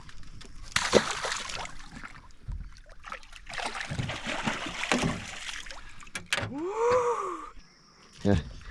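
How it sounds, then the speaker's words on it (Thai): Strongly flowing river water on the Amazon in Brazil during a fishing competition from a boat, with sloshing and rushing water under talking voices and a few sharp bumps. "น้ำไหลแรงเลย"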